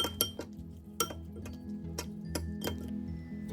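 A spoon clinks against a bowl while stirring a marinade of fish sauce, shredded ginger, black pepper, mushroom seasoning and salt for razor clams, giving light, irregular taps and clinks close by.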